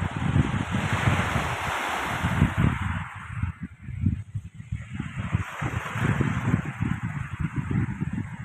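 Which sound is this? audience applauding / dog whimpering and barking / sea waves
sea waves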